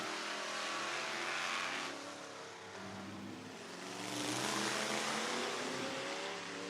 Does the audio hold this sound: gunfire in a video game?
no